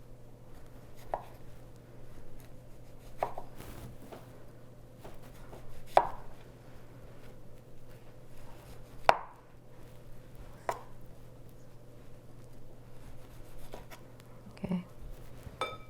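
A knife cutting citrus peel and membrane for a salad on a board: sharp, separate cuts every couple of seconds, close and fairly quiet, with a steady low hum behind.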